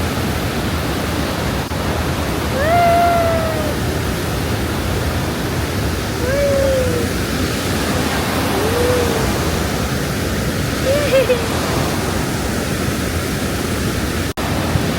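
Steady roaring rush of falling water at Rhine Falls, Switzerland, fills the whole clip, loud and constant, with a few brief bird-like whistles rising above it.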